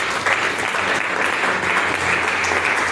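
Church congregation at a prophetic worship service applauding for Jesus Christ, dense sustained clapping from many hands filling the room evenly for the whole stretch.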